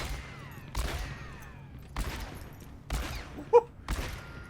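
Gunfire in Overwatch aim training, five sharp, evenly spaced shots roughly a second apart, each ringing out briefly with a short metallic ping near the fourth, and no talking over them.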